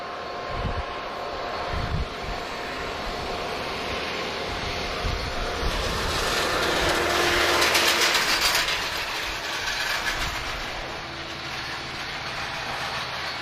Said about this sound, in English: And I can hear the sound of CF6 engines.